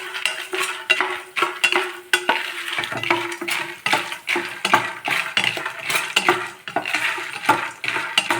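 Dried manathakkali berries crackle and rattle while frying in a pan, rapid irregular pops and clicks over a low sizzle, close by and steady with no talking.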